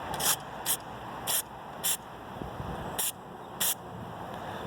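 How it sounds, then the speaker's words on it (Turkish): Six short bursts of lubricant spray hiss from an aerosol can onto the steering wheel horn pad of a Volkswagen Transporter T4, each under half a second, spaced irregularly over a quiet low background rumble. "Şu iç kısımlara çok hafif balta spreyi sıkacağım."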